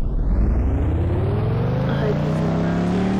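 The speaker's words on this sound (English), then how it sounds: "Just let me get in my car." Car engine in the Roblox game Vehicle Tycoon, a steady rising drone that builds smoothly over a few seconds, loud and close, with no talk over it.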